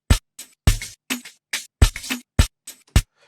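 An Amapiano drum loop chopped into slices in FL Studio's Fruity Slicer plays alone: short punchy hits with deep low kicks and bright snappy tops, spaced in a sparse, syncopated groove with brief gaps of silence between them.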